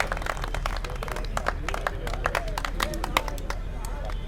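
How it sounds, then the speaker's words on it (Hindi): A crowd at the U.P. Cup cricket prize distribution ceremony claps steadily throughout, a dense patter of many hands with a low murmur of voices underneath. "तालियां।"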